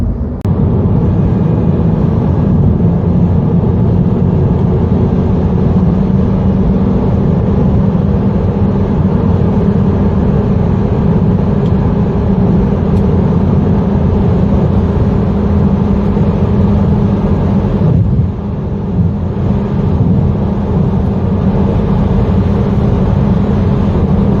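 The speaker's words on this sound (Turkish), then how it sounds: "sıfırdan 180 km hıza da bu şekilde hızlanıyor" A Honda Civic 1.6 Eco Elegance accelerating from standstill to 180 km/h, heard from inside the cabin as a loud, constant engine and road drone that holds steady throughout, with no talking.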